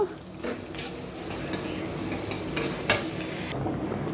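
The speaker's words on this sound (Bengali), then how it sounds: "আমার বেরেস্তার তেলটা ফুটে গেছে এবার আমি পেঁয়াজটা বেরেস্তা করে নেব" Sliced onions frying in hot oil to make crisp beresta for biryani, a close continuous sizzle with bursts of stirring and spatula scrapes, cutting off sharply near the end.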